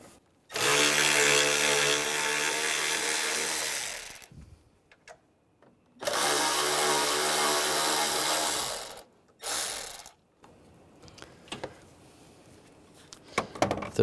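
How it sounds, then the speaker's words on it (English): Power tool with a T25 socket backing bracket screws out on a 2013-2016 Dodge Dart 2.4L during AC condenser replacement, two long steady whirring bursts and a short third, with clicks and handling noise between. "We're going to use a T25 socket. Take those screws out."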